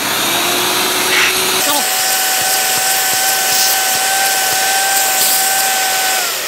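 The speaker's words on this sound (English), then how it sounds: "I don't think my shop vac is so strong" A shop vac runs loudly and continuously, sucking out the drain line of a leaking mini split air conditioner, a strong close whooshing roar with a steady whine that shifts pitch as the seal changes.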